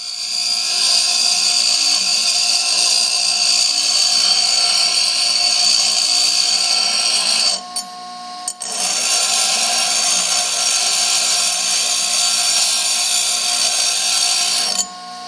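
A grinder cuts into a steel wrench during a British sports car restoration, a continuous loud high-pitched whine and grinding that stops briefly near the middle and then resumes.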